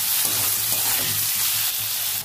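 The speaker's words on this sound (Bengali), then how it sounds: "ভালো করে পেঁয়াজটা একটু ভেজে নেব" Chopped onion frying in oil with slit green chillies and salt produces a loud, steady close-up sizzle with occasional stirring, easing off slightly near the end.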